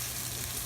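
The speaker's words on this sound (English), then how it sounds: "I threw the oil, and also I threw the garlic and let it saute in there for a minute" Garlic sautéing in hot oil for a Filipino chicken tinola, a steady soft sizzle with a broad hiss that stays even and close throughout the short moment, with no voices.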